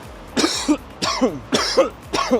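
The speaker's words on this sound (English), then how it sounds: "I have a cough. Specifically, I have a dry cough." Four dry, hacking coughs in a steady rhythm, each a short harsh burst with a rough throaty tail, close and fairly loud with no talking.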